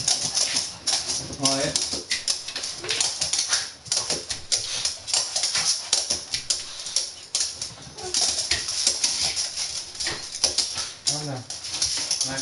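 New puppy Tilly whimpering and shuffling about indoors, thin high whines scattered across a noisy room while a person talks nearby.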